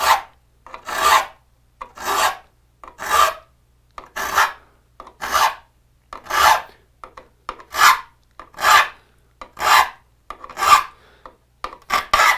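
A hand file sharpening the teeth of a handsaw in a quick touch-up, about a dozen evenly spaced rasping strokes, close and clear with no talk.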